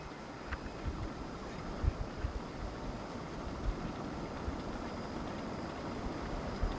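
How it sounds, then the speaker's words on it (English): Steady wind roars outdoors on a cold day after a snowstorm, with snow still on the ground, a continuous low buffeting rush with gusty bumps against the microphone. "It's pretty windy out here today."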